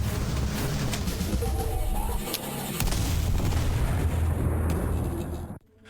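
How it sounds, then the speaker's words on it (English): A grenade blast in the retro shooter Cultic, a loud booming rumble with crackling debris sustained for several seconds before cutting abruptly to quiet. "One well-placed grenade,"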